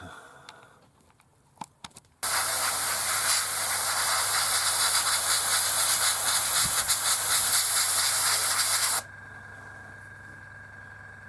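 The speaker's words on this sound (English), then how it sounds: "So I'm spraying it in Tamiya XF71 interior green." An airbrush sprays model paint onto a 1/72 scale model aircraft in one long, continuous hiss lasting several seconds, starting and stopping abruptly against a quiet room.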